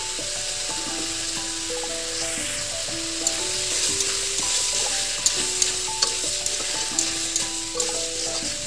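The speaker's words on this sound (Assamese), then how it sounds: "মাংসখিনি ৰঙচুৱা হোৱালৈকে ভাজিব লাগিব।" Mutton and potatoes fry in a pan with a continuous close sizzle and occasional utensil clicks, while soft background music plays throughout.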